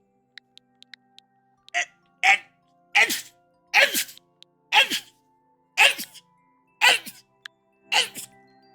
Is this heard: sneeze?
yes